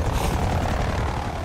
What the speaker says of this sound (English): your score streaks to care packages with a helicopter